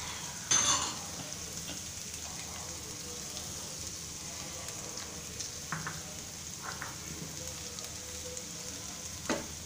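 Cabbage stir-frying in a pan for a Rayalaseema-style cabbage fry, a soft steady sizzle lasting throughout, with faint stirring and a few clinks of a utensil against the pan.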